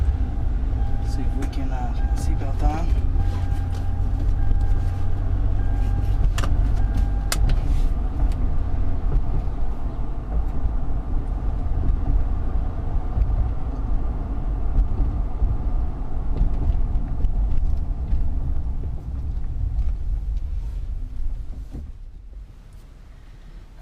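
A 2008 Toyota Highlander with a cylinder 2 misfire, now repaired, drives on a test drive with a steady interior road and engine rumble and a few light clicks, fading near the end.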